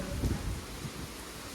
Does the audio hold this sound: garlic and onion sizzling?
no